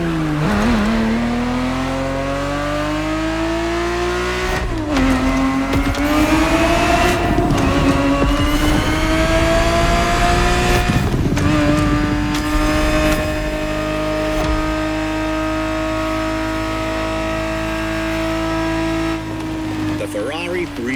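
A 1970s Ferrari 365 GTB4 races in the video game The Crew Motorfest, its engine revving loudly and climbing through a few gear changes in a steady, up-close drone.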